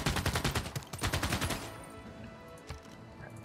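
Video game gunfire from units in Civilization VI, a dense burst of rapid shots for about a second and a half that gives way to a fading rumble and scattered reports.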